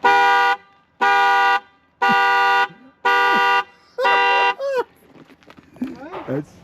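A car horn or alarm in a junkyard blares in five evenly spaced, steady tones, loud and close, then stops and a voice starts talking.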